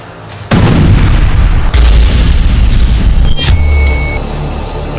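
A loud, deep explosion bursts in suddenly and keeps roaring with heavy low rumble, a second blast adding to it, before slowly fading.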